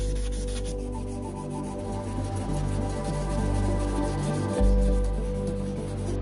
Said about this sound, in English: Since the entire surface is quite burnt, we're going to polish it with very fine sandpaper.